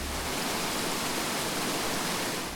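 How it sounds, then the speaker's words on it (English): A waterfall on the Camino de Santiago pours in a steady, dense broadband rush, close and continuous with no voices. "we heard the waterfall"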